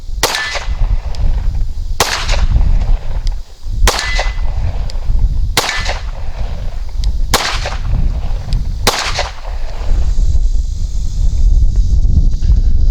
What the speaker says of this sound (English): Take some shots on some steel we got about 20 yards out